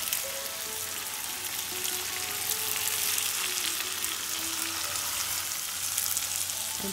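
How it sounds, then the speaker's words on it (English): Curry leaves fry in hot oil in a pan for a fish dish, with a steady, loud sizzle and crackle throughout. "let's add some curry leaves"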